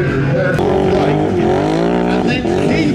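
A car drifting on tarmac at a show, its engine held at a high, wavering pitch with tire noise, loud and continuous under a person talking.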